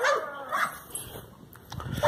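A dog at a kennel yard gives several loud barks and yips, spaced irregularly and fairly close, with no one speaking.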